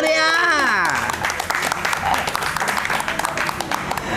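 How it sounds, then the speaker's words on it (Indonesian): Lively clapping and crowd applause on a podcast about legendary punk rock bands, starting with a sliding tone-like voice or whistle, then dense steady clapping until the end. "Tepuk tangan yang meriah."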